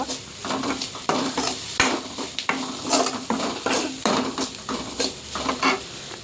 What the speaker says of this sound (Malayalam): ഇനി തേങ്ങ ഇടുക. എന്നിട്ട് ഇളക്കുക.